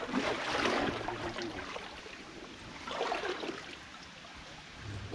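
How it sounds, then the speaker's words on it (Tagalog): A clear river stream flows nearby with a soft, continuous rushing and trickling, swelling and easing in faint waves with no talking. "Malayo pa lang naririnig na natin sir yung agos ng tubig"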